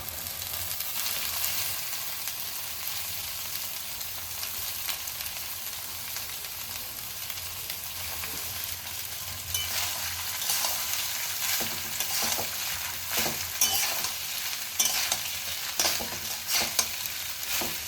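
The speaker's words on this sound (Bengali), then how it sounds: "ফুলকপি কাজু কিশমিশ ওগুলো সবই আমার ভালো মতোই ভাজা হয়ে গেছে এবারে আমি ভাতটা দিয়ে দেবো" Cooked rice is stirred and fried in a pan with fried cauliflower, cashews and raisins for Bengali-style fried rice. Steady sizzling runs under repeated scraping and stirring strokes, which grow busier toward the end.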